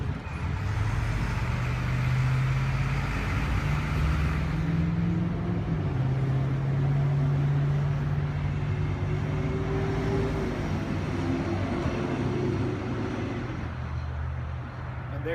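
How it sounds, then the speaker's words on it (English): The power roof of a Mercedes-Benz SL550 convertible retracts by remote, a steady electric motor whine that shifts pitch in stages over about fifteen seconds, close and unbroken. "The best feature of this car is being able to drop the top via the remote."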